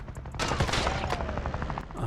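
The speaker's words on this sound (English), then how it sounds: "I have new sounds for the ricochets as well" Bullets ricocheting and striking surfaces in an indie helicopter shooter game, with rapid overlapping cracks, a whizzing streak and scattered impact pops in a dense, continuous burst of gunfire.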